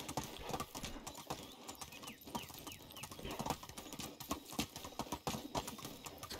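A horse's hooves clip-clop in a steady walking rhythm in the medieval survival game Medieval Dynasty, close and continuous, with faint chicken clucks and birdsong in the background.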